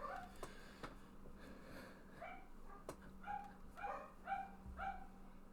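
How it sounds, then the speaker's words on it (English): Faint dogs bark and yip in the background in a loose series of short calls, quiet and somewhat distant, picked up behind a quiet room with no speech. "And the dogs are barking."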